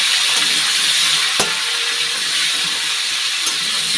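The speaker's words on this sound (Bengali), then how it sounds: "তো এখন তেলটা দিয়ে দেবো। একটু হালকা করে ভেজে নিই।" Potatoes fry in mustard oil with dried red chili and bay leaf, a loud, steady, close hiss with a single sharp tap near the middle.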